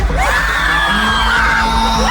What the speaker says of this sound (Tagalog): Sumigaw nga lahat ng may mga kaibigan dyan.